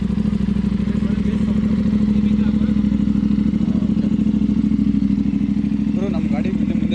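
Deep, loud idle from an Aprilia RS 457 running an aftermarket exhaust and BMC air filter, a steady close throb with slight rises, and people talking briefly near the end.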